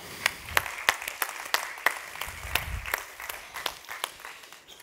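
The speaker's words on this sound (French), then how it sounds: "je pense qu'on peut s'applaudir un petit coup" Light, scattered applause from a small group at a collaborative workshop, individual claps audible, fairly faint and uneven.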